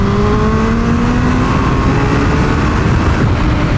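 A turbocharged Hayabusa motorcycle engine on a dyno in third gear roars loud and close, its pitch climbing steadily as the revs build without a break.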